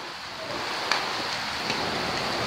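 Steady rain pouring down outdoors, a dense even hiss with a few sharper drops, close and moderately loud with no voices.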